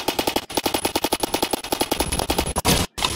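Rapid automatic gunfire from the online shooter game Phantom Forces, a loud, steady stream of close shots with brief pauses and one abrupt cutoff near the end.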